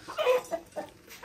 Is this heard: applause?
no